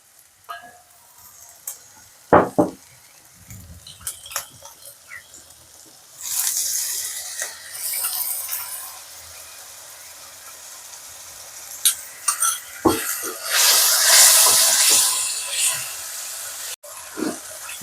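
Spices blended with yogurt and a splash of water poured into a hot oiled pan with jackfruit, bursting into loud sizzling that swells twice in long hissing waves, with brief stirring clatters and a voice speaking at times.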